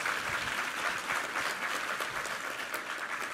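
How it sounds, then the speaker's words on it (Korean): A church congregation applauds during a Korean sermon service, a continuous, dense clapping from many people that stays even and fairly full throughout. "우리 하나님께 감사의 박수 올려드리겠습니다."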